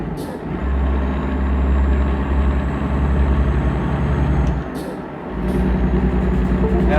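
A heavy truck in a driving simulation game with its Jake exhaust brake engaged, a loud, steady low engine rumble that briefly cuts out and resumes, with faint hissing bursts.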